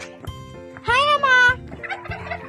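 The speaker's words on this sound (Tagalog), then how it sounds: "Yan yung ibang pabo." Turkeys gobbling loudly nearby, a burst of rapid warbling calls with shorter gobbles before and after.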